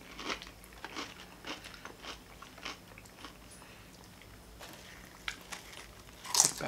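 Someone bites into a jalapeno with a series of sharp, close crunches and wet chewing in a quiet room, irregular bites spread across several seconds and a louder crunch near the end.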